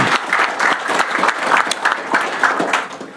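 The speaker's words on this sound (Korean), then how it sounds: "우리 총리님한테 박수 한번 쳐주시죠." Loud, close applause for the prime minister from an audience at a Korean presidential event after the APEC summit, with brisk, dense clapping sustained for about three seconds.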